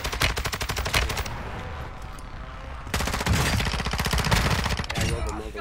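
Rapid automatic gunfire in a video game, dense bursts from about a second in and again after a short pause, loud and close with a brief lull between volleys.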